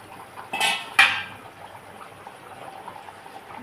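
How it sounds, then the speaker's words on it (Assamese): A metal lid is lifted off a cooking pot in a home kitchen where jackfruit seeds are boiling: two sharp clanks about half a second apart, followed by a soft bubbling and simmering under quiet room noise. "এতিয়া আমি এয়া ঢাকন খুলিছোঁ।"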